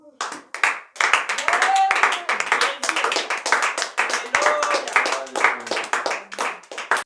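A church congregation claps loudly and rhythmically in praise of the Lord, with dense, steady hand claps close by and voices calling and singing out over the clapping throughout.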